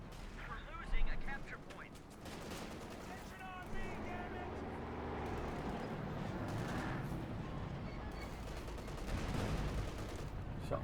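Gunfire and explosions in a Company of Heroes 2 multiplayer match between Wehrmacht and US Forces, a steady dense battle din of shots and booms with a louder burst near the start, under continuous commentary.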